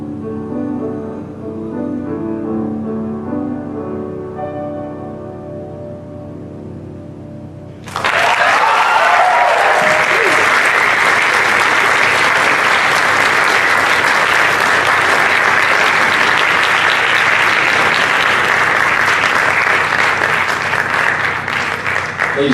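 Loud, dense applause from a recital audience honoring performing arts academy seniors, breaking in abruptly after soft piano-accompanied music and sustaining steadily to the end.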